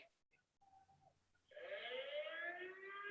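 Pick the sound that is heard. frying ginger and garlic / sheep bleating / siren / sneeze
siren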